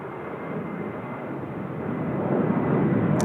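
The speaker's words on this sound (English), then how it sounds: "We got Air China just departing now as well." An Air China Boeing 737-800 departing Seoul Incheon Airport gives a broad, steady jet roar that gradually swells louder over a few seconds, heard from a distance with no talking.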